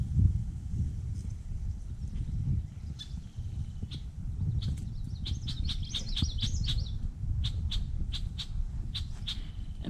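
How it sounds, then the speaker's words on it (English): Red-winged blackbird giving a repeated warning call outdoors at a wildlife refuge marsh, a string of sharp chirps over steady low background rumble. "That's a red winged blackbird."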